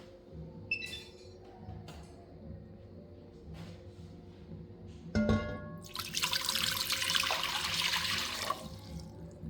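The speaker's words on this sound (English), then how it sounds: "I'm putting my water and the teas in this enamel Dutch oven that I have" Water is poured into an enamel Dutch oven on a cooktop: a few faint kitchen clinks, then a steady rushing splash of pouring for about three seconds before it tapers off.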